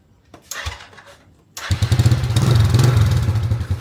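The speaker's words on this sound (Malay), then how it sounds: "Kita test suruh hidup lah motor kita." A classic motorcycle that had run out of fuel coughs a few times, then catches and settles into a loud, close, steady putter, with no talking over it.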